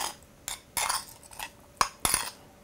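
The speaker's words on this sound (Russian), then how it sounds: "нужно перемешать с маслом, с перцем" A spoon stirs gazpacho with oil and pepper in a bowl, giving several distinct clinks and scrapes of metal on the dish at irregular intervals, close and without talk.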